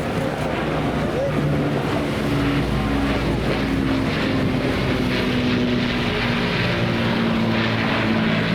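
Avro Lancaster bomber, a four-engine propeller aircraft built in May 1945, flying past at Blackpool Airshow 2024, its loud sustained engine drone and droning harmonics steady throughout, with crowd noise and wind around it.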